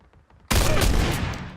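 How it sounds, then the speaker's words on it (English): A single loud shotgun blast in PUBG, a sudden close broadband burst after a quiet lead-in whose ringing roar carries to the end, with no voices. "we each hit each other with a shotgun shell"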